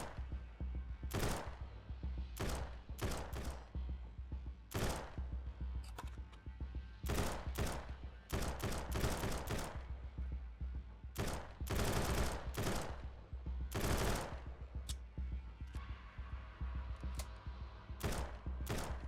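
Gunfire in the survival game SurrounDead cracks out in sharp bursts and single shots, loud and close, spaced irregularly across a long firefight with brief rapid clusters and no talking.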